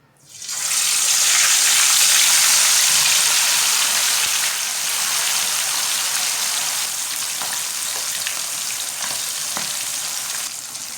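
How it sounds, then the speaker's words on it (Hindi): Chicken pieces frying in well-heated oil for biryani, a loud, steady sizzle that starts abruptly and keeps going with a few small crackles and pops, no voices. "अब चिकन को फ्राई कर लेंगे। ऑयल हमारा अच्छी तरह गर्म हो चुका है।"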